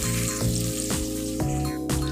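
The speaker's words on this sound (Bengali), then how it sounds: "তারপর এখন পেঁয়াজ কাঁচামরিচটা ভালো করে একটু ভেজে নেবো।" Onion and green chillies fry in hot oil with a steady sizzle, broken by a few soft stirring scrapes at regular intervals, close and alone with no voices.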